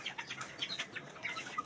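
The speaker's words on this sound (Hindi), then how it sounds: "ये मुर्गा" Hens and a rooster in a poultry set-up give soft, scattered clucks and chirps, faint and close-ish against a quiet background, with no speech.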